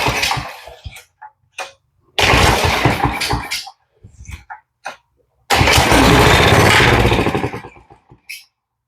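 A Coleman CT100 minibike engine on starter fluid gets several pulls, sputters into two bursts of rough, loud running lasting a few seconds each, then dies, with clicks and rattles between the attempts.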